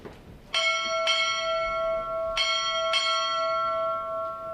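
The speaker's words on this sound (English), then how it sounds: "Time orderly, strike 4 bell." Ship's bell struck four times at a Navy Recruit Training Command graduation ceremony, two pairs of bright ringing strikes with long sustained overtones decaying in a large hall.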